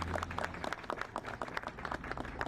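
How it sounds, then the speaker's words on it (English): Audience applause for someone speaker at a civic gathering on road safety, steady moderate clapping from a mid-sized crowd sustained throughout. "please give her a round of applause"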